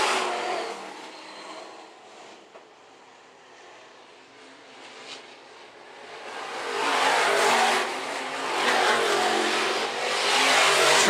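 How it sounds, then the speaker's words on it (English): A modified race car engine slows on the back straightaway of a racetrack at Phillips County Raceway, a broad roar that dips and then swells again, filling the scene without any talk. "The 8H car slows down the back straightaway."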